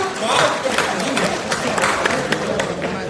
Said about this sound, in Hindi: एक बार जोरदार तालियां बजाइएगा